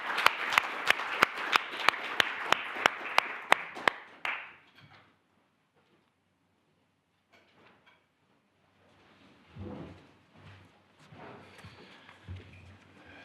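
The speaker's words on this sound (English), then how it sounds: "Please give the panel a round of applause" Conference audience applause for a panel at a Europe Day event: crisp, close claps for about four seconds that quickly die away, followed by near-silence and some low rustling and shuffling.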